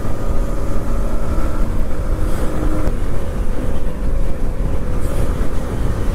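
Royal Enfield Meteor motorcycle cruising on a highway on a ride from Hyderabad toward Chikmagalur, a steady loud roar of engine and wind rumble running continuously with no talk.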